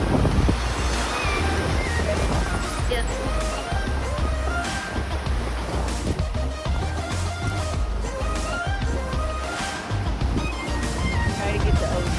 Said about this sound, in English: Try to get the ocean.